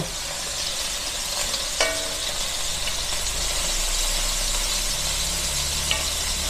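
Pancit canton noodles being stirred in a frying pan, a continuous hissing sizzle with scraping strokes of the utensil and a sharp clack near the start, close and steady with no talking.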